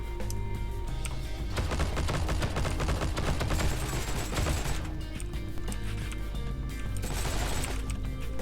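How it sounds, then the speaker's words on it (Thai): Thompson M1A1 submachine gun fire in the video game Heroes & Generals: several rapid automatic bursts of dense, crackling shots, loud and close, separated by short pauses. "ดี๋ยวเราไปลองยิงคนกันบ้างดีกว่านะครับ"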